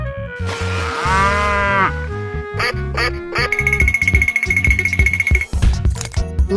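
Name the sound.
cow mooing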